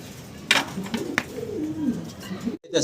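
Soft, low pigeon cooing murmurs close by in a quiet space, with a few brief rustles and a short break near the end.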